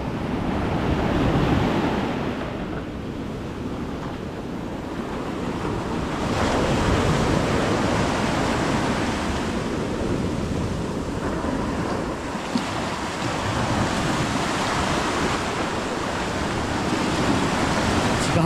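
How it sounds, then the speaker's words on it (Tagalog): Ocean waves break on the shore in a continuous loud wash of surf, surging and easing every few seconds amid strong wind buffeting the microphone. "Hoy, may alon nga."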